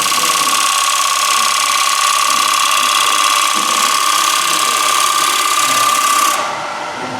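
A sharp chisel makes a small cut on a spinning wood lathe, giving a loud, steady whine with a high ringing tone that holds for about six seconds. The sound then drops off as the cut ends.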